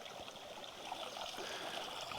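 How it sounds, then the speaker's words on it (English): Drain-pipe water trickles into the river at a hot-spring campground, a faint, steady babble of running water with nothing else over it. "there's a drain pipe that leads back here, and then the water flows into the river"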